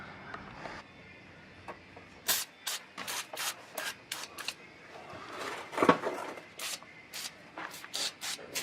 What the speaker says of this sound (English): So I'm just gonna hit it with the PB Blaster